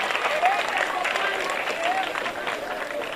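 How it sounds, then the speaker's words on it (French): Applause from an audience of pupils and guests at a school excellence ceremony, an even wash of clapping with faint voices mixed in throughout. "vos élèves méritent aussi des applaudissements"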